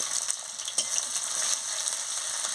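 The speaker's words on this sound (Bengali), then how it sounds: "মশলাটাকে ভালো করে ভেজে নিচ্ছি।" Spices and ginger paste sizzle steadily in a hot pan, a dense, continuous hiss with faint scraping from stirring, close and fairly loud, with no voices.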